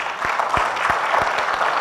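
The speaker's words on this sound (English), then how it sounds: "let's give them a round of applause, please." Applause from a conference audience for a panel at a session on Earth observation for biodiversity conservation, a steady dense patter of clapping with a few louder individual claps standing out, fairly close and continuous.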